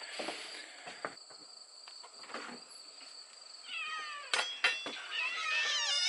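A cat meows several times at moderate distance amid quiet outdoor ambience, with chirping birds or insects rising toward the end.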